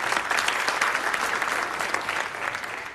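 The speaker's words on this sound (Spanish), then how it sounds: "¡aplauso!" Steady audience applause fills the room, dense and continuous clapping from a crowd at a gathering celebrating a thesis defense at the Sorbonne, lasting the whole stretch without talk.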